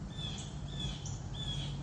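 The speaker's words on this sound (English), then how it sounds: "you hear the birds? It's beautiful." Faint birds chirping outdoors, a few thin high calls drifting over a steady wash of background noise, distant and soft.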